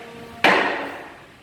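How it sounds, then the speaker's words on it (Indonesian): One sharp wooden gavel knock opens a formal organization meeting, loud and close, with a ringing decay that fades over about a second in a quiet room. "presidium akan membuka persidangan ini dengan mengetuk palu 1 kali"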